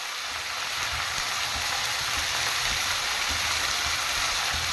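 Chicken pieces with turmeric powder sautéing in a pan for a Tamil chicken pepper curry give a steady, close, broadband sizzle and crackle that runs unbroken throughout, with no talking.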